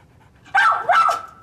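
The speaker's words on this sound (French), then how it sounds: "Arrête d'aboyer." A dog lets out two loud, close barks with breathy panting mixed in, set against a quiet indoor room with no talking.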